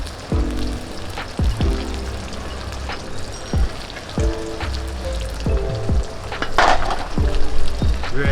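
Garlic and ginger paste frying in hot oil for a Bangladeshi pigeon curry, a steady close sizzle with repeated bursts of crackling as the paste is stirred, and one loud hiss near the end; no talk.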